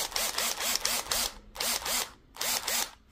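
Cordless power tool running on a Lidl X12V 12V battery, whirring in repeated short bursts of about a quarter second each, then several longer runs separated by brief pauses, close and loud.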